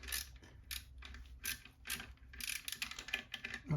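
A socket ratchet clicks in quick, close, quiet bursts of rapid pawl ticks while tightening a small bolt fitting new horns on a Moto Guzzi Mandello V100 motorcycle.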